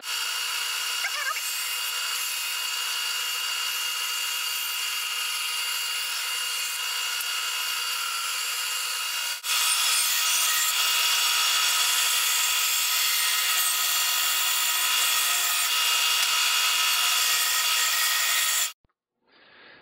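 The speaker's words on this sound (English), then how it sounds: "So now we're at the bandsaw. We're just going to start the saw up." A bandsaw whines steadily as it cuts wood blanks for a bodysurfing handplane, the high, even tone rising in intensity partway through before the cut ends abruptly and the motor winds down.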